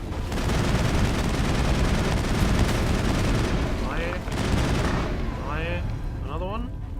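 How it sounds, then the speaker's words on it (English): Sustained video game gunfire from Mass Effect, dense continuous rapid shots and booms filling the whole stretch, with brief voice-like chirps and effects near the end. "Firing."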